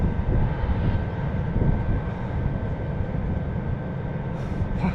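An outdoor heating unit blowing hot air, a loud steady whooshing roar with a faint constant hum, close and unbroken for the whole stretch, without talk.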